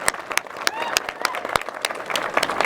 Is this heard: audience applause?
yes